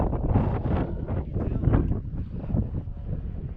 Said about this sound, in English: Wow, that wind really grabbed it.